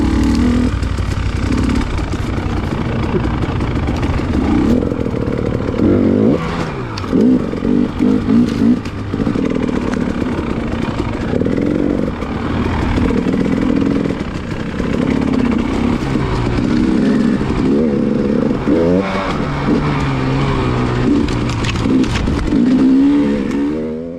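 Off-road buggies pass close by on a snowy winter mountain trail, engines revving and roaring loudly in a continuous stream with rising and falling pitch as each machine goes past.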